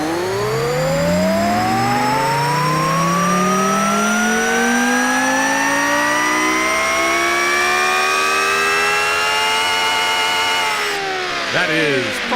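A modded car engine in a video game, with a swapped engine, revs in one long, loud sweep that climbs steadily for about eleven seconds before cutting off abruptly.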